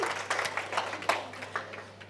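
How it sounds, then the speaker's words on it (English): Audience applause at a wellness talk, a modest crowd clapping in loose, uneven bursts, fairly quiet and distant, over a faint steady hum. "So give yourselves a round of applause."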